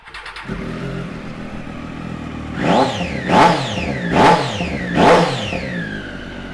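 A 2016 Triumph Daytona 675 motorcycle with an Arrow exhaust fires up and idles close by, then gives four sharp, evenly spaced throttle blips that rise and fall back to a rumbling idle.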